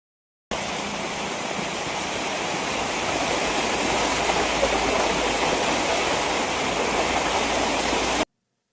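Heavy rain pours down in a dense, even hiss that stays loud and unbroken from start to finish, with no voices.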